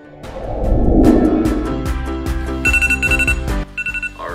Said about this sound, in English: I'm gonna set my timer for 3 minutes